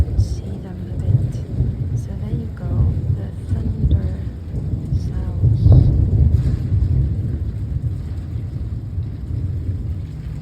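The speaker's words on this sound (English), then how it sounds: "So there you go, the thunder sounds." A thunderstorm over Paris rooftops in winter brings heavy rain with a deep rolling rumble that rises and swells near the middle, then settles back into a steady wash of rainfall and gusting wind.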